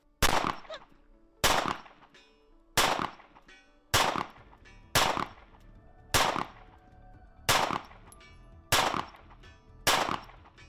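Eight sharp rifle shots from an SRO sniper rifle in a video game ring out at a steady, slightly uneven pace about a second apart, each a loud crack with a short decaying tail, alone without talk.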